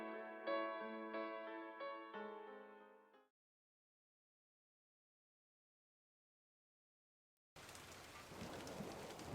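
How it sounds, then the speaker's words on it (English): Thunderstorm with steady heavy rain and rumbling thunder, entering loudly after a stretch of silence that follows a sustained tonal musical passage. "The sudden clap of thunder had shaken him from his deep sleep."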